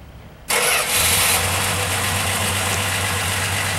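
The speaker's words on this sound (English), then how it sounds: "Car starts right up." A 1962 Dodge Dart 330 sedan with its slant-six engine cranks briefly and fires right up, then settles into a loud, steady idle with a low rumbling hum, close and with no talking.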